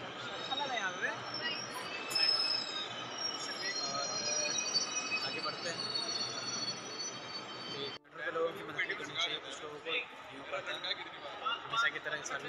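A Delhi Metro train stands at a busy station, with a steady rumble, metallic hiss and wheel squeal filling the space, a brief dip partway through, and crowd noise mixed throughout.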